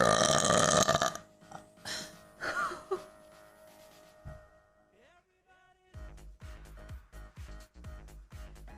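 A loud, long, rough burp bursts out right at the start, followed by quieter scattered vocal sounds and then a run of punchy rhythmic beats.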